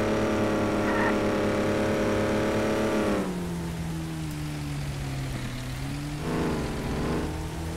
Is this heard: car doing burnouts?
yes